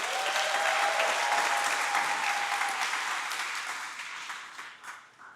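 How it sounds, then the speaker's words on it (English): Graduates and guests applaud at a charter school graduation ceremony, a dense sustained burst of many hands clapping that slowly thins and fades toward the end, with no voices. "Give yourselves another round of applause for that."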